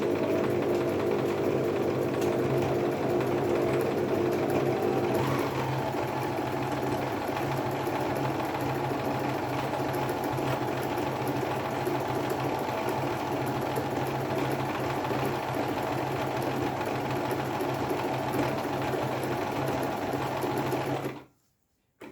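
A Singer Promise 1412 sewing machine runs steadily for about twenty seconds, sewing a double stitch with an even, continuous motor whir and needle clatter that shifts slightly early on, then cuts off abruptly at the end.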